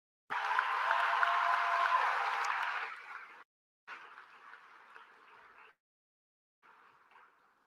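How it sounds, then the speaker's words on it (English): An audience at a graduation ceremony applauds Level 2 Honours graduates, a rather faint crowd clapping that holds steady for about three seconds and then returns in two shorter, quieter bursts separated by silences. "we'd appreciate some applause for this group of Level 2 Honours graduates"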